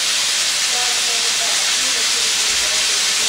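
Pork sizzles loudly in a frying pan, a dense, continuous hiss that stays steady and close from start to finish.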